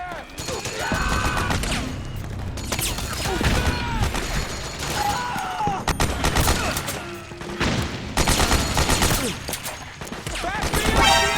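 Chaotic video game battle in Metal Gear Solid 4, with dense bursts of automatic gunfire, booms and crashes layered over shouted voices throughout.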